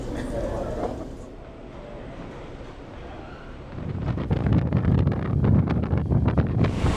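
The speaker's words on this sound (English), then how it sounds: "It's not too blowy, a bit blowy, it's not too bad." Wind buffeting the microphone on a cruise ship promenade over choppy sea, gusty rumbling that eases for a few seconds and then swells louder again, with people talking faintly.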